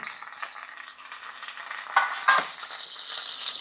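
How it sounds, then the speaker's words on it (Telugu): Sliced onions and curry leaves crackle and fry in hot oil, a close, continuous sizzle with a couple of brief louder bursts as they are stirred. "నూనె వేడెక్కగానే ఉల్లిపాయలు వేసేసుకోండి కరివేపాకు వేసుకోండి"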